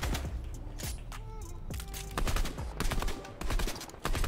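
Rapid bursts of Fortnite gunfire crack in quick succession, some fast automatic volleys, fairly close and sharp with no talking.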